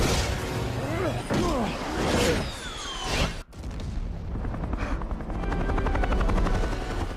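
A helicopter's rotor thumps amid loud chaotic action noise, with whooshing sweeps and a sharp cut midway, followed by a steady droning engine.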